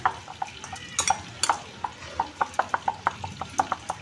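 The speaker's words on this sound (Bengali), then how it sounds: "আমি একটু জল দিয়ে আমি মেশাচ্ছি একদম স্মুথ একটা ব্যাটার ব্যাটার তৈরি করব" Batter for chilli fish is mixed with water and a little oil in a bowl, producing quick rhythmic taps and clicks of a utensil against the bowl, steady and close.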